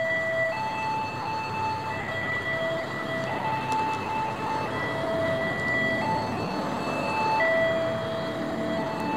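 At a railway level crossing, a warning signal sounds in alternating tones while a train rumbles past with steady, continuous noise at moderate distance, and no one speaks.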